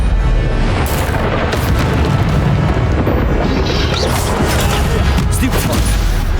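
An Incendio fire spell is cast during combat in Hogwarts Legacy. It comes through as a loud, continuous roaring blast layered with booming impacts and crashes.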